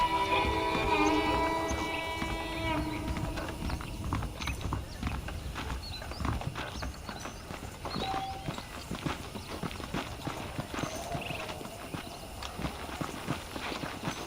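Horse hooves clip-clop steadily in the Western video game Red Dead Redemption, a continuous rhythmic gait with creaking tack, briefly overlapped by a voice at the start.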